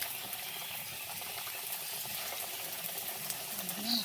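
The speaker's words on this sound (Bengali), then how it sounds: "এইভাবে ভেজে নেব। ভালোই তো ফুলতেছে ফুচকাগুলো।" Fuchka puris fry and puff in hot oil, a steady dense hiss and bubbling sizzle with faint crackles throughout, close and even in level.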